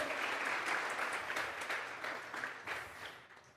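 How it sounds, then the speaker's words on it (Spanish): Church congregation clapping loudly and steadily through a Sunday service, a dense wash of palms that fades slightly toward the end, with no speech over it. "Dele fuerte esas palmas al Señor"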